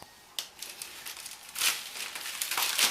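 Plastic sleeve around a poinsettia pot crinkling as it is slid down, a few soft crackling rustles building into denser, louder crinkles near the end, close and alone.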